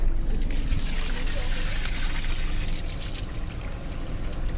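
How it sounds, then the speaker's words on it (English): Water dumped out of a container at a campsite, a steady broadband pouring and splashing rush lasting throughout and easing slightly near the end, with voices faintly underneath. "We're just emptying it out right here. Dumping it out. All the water."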